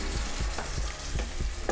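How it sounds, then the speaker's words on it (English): Food sizzling loudly in a hot pan, a steady crackle broken by sharp bursts of spatter every so often, close up and with no talking. "That was a pretty dramatic sizzle"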